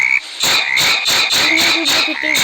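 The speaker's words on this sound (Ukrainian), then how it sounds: "Тут є така от жабка." Frog croaking in the forest survival game 99 Nights in the Forest: a loud, rapid run of repeated croaks with no talk over it.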